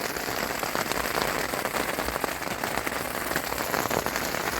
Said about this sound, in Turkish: Çadırı kurar kurmaz 5 dakika sonra yağmur başladı.